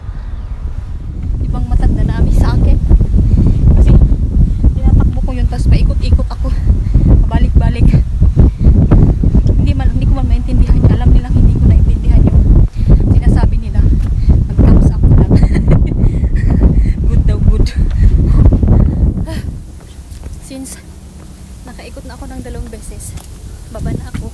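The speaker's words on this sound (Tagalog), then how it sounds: "Lakas talaga ng hangin, oh." Strong wind on a morning hike buffets the microphone in loud, rumbling gusts for most of the clip, then eases to a quieter roar near the end.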